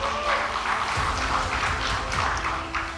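Half-hearted audience applause at an Indonesian political talk event, a thin scatter of hand claps running steadily for a few seconds at close range with no voices over it.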